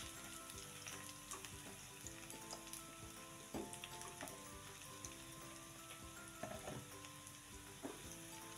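Tempe stir-fries in a pan with wilted, fragrant shallots, a constant close sizzle broken by repeated scraping and clattering spatula strokes, and no voices.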